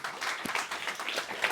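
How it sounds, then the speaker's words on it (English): An audience at a London startup networking mixer applauds, a steady wash of many hands clapping at moderate distance for a moment. "We can have a round of applause for Josephine"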